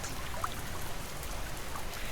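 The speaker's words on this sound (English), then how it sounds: "The rain outside is a quiet companion" Steady rain falls outside a cabin at night, a soft, even wash of drops and light trickling that holds at a low, constant level with no voices.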